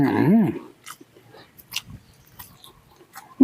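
A brief vocal sound opens, then close, wet chewing and biting of grilled chicken follows in small irregular crunches and smacks, fairly quiet, at a train station.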